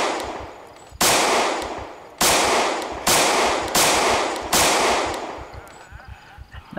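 Five loud gunshots ring out in Project Zomboid, each a sharp crack followed by a long decaying tail, spaced roughly a second apart, with faint background ambience between them.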